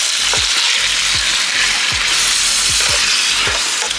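Green chilies and curry leaves are stirred in hot oil for gongura chicken. A loud, continuous sizzle runs throughout, with a spatula thumping against the pan about every half second.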